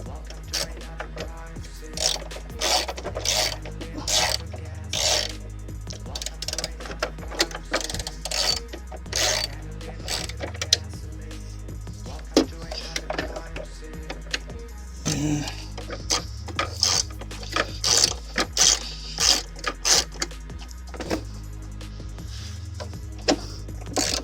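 A ratchet cranks in quick, rapid bursts of clicking up close while headlamps are fitted on a 1991-99 Chevy/GMC Suburban K1500, with short pauses between runs and someone talking over a steady low hum.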